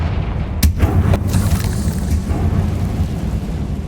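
Confringo explosive spell blast in Hogwarts Legacy, a loud sustained rumbling boom with a couple of sharp cracks near the start, heavy and close, fading slowly into low roar.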